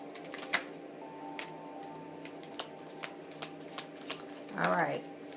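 Tarot cards are shuffled softly and steadily, with a string of light flicks and taps over a low room hum, and a brief voiced sound rising near the end.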